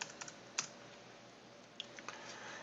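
Computer keyboard keys are tapped in a few quick bursts, a cluster of clicks at the start, then a pause before more keystrokes near the end.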